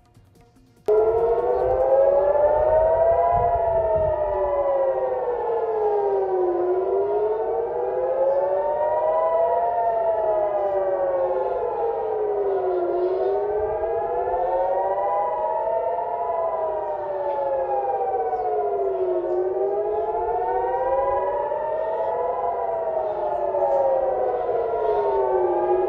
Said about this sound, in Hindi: चारों तरफ युद्ध के सायरन